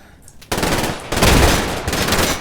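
Sustained gunfire and a heavy burst in the Combat Mission Red Thunder war game, on a Stalingrad battlefield: loud, dense rattling volleys break in suddenly, swell again a moment later and continue unbroken.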